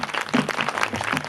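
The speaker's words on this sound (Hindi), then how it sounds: "जरा ताली बजाकर" An audience at a Devi Jagran, a Hindu devotional night gathering, claps together in a steady, dense round of applause that fills the whole moment, close and lively, with no voices rising above it.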